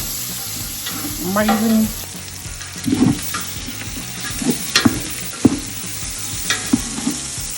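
Garlic and bacon ends sizzling in a pan, a steady fry under scattered clinks and scrapes of stirring, close by, with a brief spoken remark.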